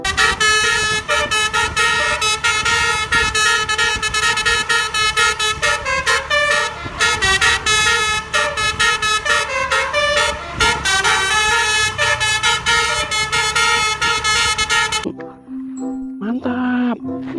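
A Gapura Ningrahayu bus passes close by, blaring a loud, melodic multi-tone horn in repeated rhythmic blasts over the roar of its engine. The honking goes on for around fifteen seconds before the bus moves away and a voice is briefly heard.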